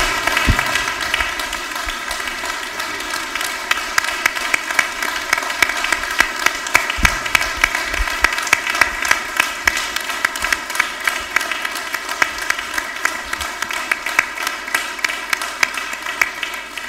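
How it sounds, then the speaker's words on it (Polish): A large audience at a ceremonial university senate session claps warmly and continuously, a dense, loud wash of applause that holds steady throughout with no speech over it. "To szczere, gorące oklaski specjalnie dla pana doktora"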